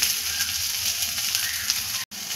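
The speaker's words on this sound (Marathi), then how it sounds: "2 मिनिटं कोथिंबीर पूर्ण व्यवस्थित परतून घेणार आहोत आपण ह्यामध्ये, ह्या मसाल्यांमध्ये" Fresh coriander with spices and salt sizzles and fries steadily in a hot pan, a dense close hiss with faint stirring and a momentary break near the end.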